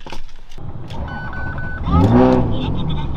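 A Ferrari Modena engine breathing through a Powercraft exhaust with its valves open, giving a loud close bark and swelling rev near the middle before settling back to a steady idle, with a short whistle-like tone earlier.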